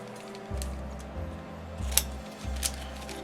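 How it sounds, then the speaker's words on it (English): Scissors cutting down pieces of paper for a December daily scrapbook kit, a few crisp snips close by with soft crinkling between them. "You know, I can cut these down."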